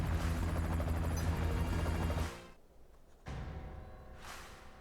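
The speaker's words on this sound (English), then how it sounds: "I see your helicopter." Helicopter in Final Fantasy VII: Ever Crisis, a loud rotor whir that cuts off abruptly, then resumes more softly and fades out.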